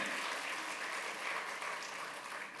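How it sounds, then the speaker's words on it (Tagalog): A church congregation claps in continuous, even applause, soft and somewhat distant, with no voices over it. "Yung iba, pumapalakpak, paano yun?"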